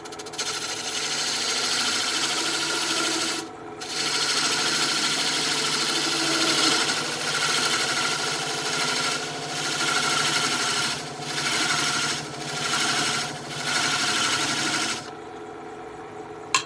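Wood lathe spinning a cylindrical box while a tool cuts a half-inch-deep channel, a loud continuous whirring hum with a brief drop and a few pulsing dips as the cut eases off, no talking.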